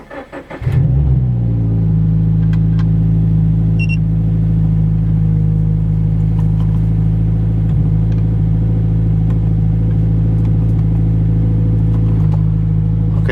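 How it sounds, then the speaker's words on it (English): A car engine, with a newly installed oil pressure gauge, cranks and starts, then idles with a steady, loud, low rumble that continues unbroken, with a few faint clicks over it. "As soon as I turn on the car"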